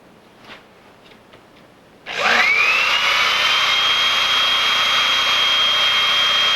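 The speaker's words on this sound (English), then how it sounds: "That'll hold it in place while we drill the hole and enlarge the hole to the necessary diameter" A power drill starts abruptly after a few faint knocks, then whines steadily and loudly at high speed while boring a hole in a blowgun part held on a broom handle in a vise.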